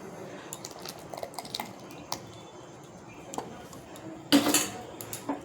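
Rice paste being stirred into milk in a pot for phirni, with soft wet squishes and sporadic spoon clinks against the pan, one louder clatter near the end, mostly quiet and close.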